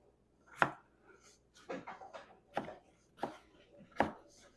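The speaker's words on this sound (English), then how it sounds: "I got some taters right here already peeled" Knife slicing through peeled potatoes on a cutting board for pot roast stew: six sharp, irregular chops over several seconds, close and fairly faint, with quiet handling sounds between them.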